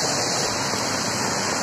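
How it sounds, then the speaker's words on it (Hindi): Heavy rain pours and water flows across a road during a downpour, a dense, loud, continuous hiss with no voices. "देख सकते हो दोस्तों कितना बारिश है"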